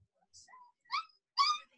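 A puppy whines in short, high, rising whimpers, three brief cries growing louder across a couple of seconds, close to the microphone in a quiet room.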